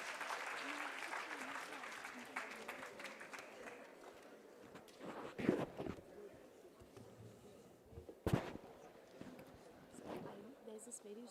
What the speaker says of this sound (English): Please welcome Sir with a big round of applause